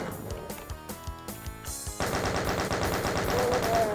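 Rapid heavy-weapon gunfire from the 1993 video game Doom: separate loud shots at first, then a dense, continuous machine-gun rattle for the last two seconds.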